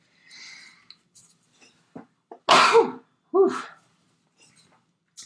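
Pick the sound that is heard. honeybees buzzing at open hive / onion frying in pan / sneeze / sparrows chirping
sneeze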